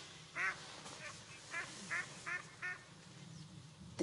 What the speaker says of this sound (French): Regardez les canards.